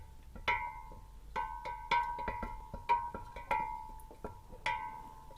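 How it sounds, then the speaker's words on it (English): A wooden or plastic spoon stirs hibiscus kombucha, producing a series of close, clear tapping knocks against the vessel with a ringing tone, irregularly spaced over the quiet background. "Give it a stir with a wooden or plastic spoon."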